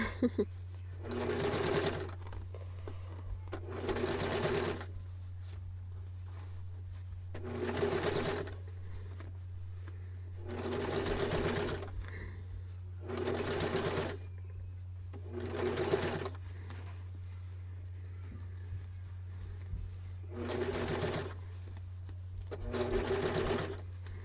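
A domestic sewing machine stitches a Kwik Sew pattern in repeated bursts of rapid mechanical whirring, roughly ten runs separated by short pauses, over a constant low hum, close and fairly quiet.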